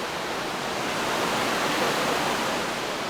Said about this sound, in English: Pristine little creek.